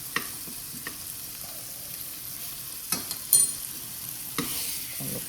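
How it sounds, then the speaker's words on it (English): American Wagyu steak cooks in a pan while being basted with garlic, a soft low sizzle punctuated by scattered sharp clicks and scrapes of a spoon against the pan, with no voices. "if you do baste the steak as it's cooking, especially with the garlic"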